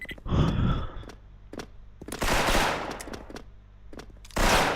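Bursts of automatic gunfire from a team shooter video game, loud and close, arriving in short clustered volleys with gaps between them, plus a breathy vocal sigh near the start.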